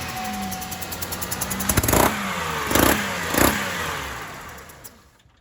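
A GM engine with a failed head gasket runs close by and sounds like an exhaust leak. A rapid ticking, puffing beat rides over the engine, with a few louder surges, before it fades at the end.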